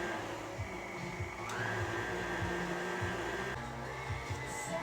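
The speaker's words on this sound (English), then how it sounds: "we're gonna put this on the mixer here" A stand mixer whirs steadily as it combines sourdough pretzel dough, a continuous motor hum with a rhythmic churning thump, close and moderately loud with no talking.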